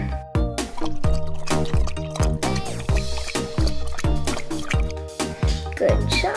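Toy play-set water poured for a pet puppy: a quick run of bright plinking drips and pours, fairly close and rhythmic, with a short gap midway and a stray clatter near the end.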